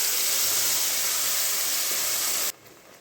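Onion, tomato and green chilli puree hits a hot pan for an egg masala curry, raising a loud, steady sizzling hiss that drops abruptly to a quieter simmer after about two and a half seconds.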